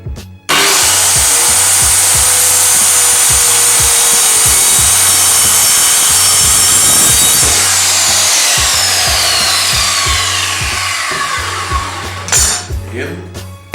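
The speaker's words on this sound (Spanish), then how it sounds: "vamos a realizar el primer corte. Va a ser la primera vez que utilizo una sierra" A Stanley SC16 circular saw makes its first cut, its loud high whine starting abruptly and running steadily, then changing pitch as the blade bites into the wood before winding down at the end.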